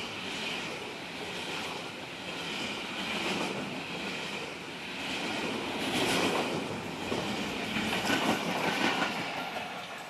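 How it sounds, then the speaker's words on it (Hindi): A train rolls past at close range near Sahjowal on the way to Habibabad, with a steady broad rumble and faint clickety-clack of wagons running for the whole stretch, swelling slightly toward the end. "फ्रेट ट्रेन गुजरने के बाद"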